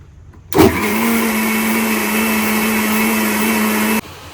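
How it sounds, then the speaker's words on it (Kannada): Mixer grinder blending mango milkshake with milk, a loud steady motor whine that starts abruptly, runs evenly for about three and a half seconds, then cuts off. "ಮತ್ತೆ ಮಿಕ್ಸಿ ಮಾಡೋಣ."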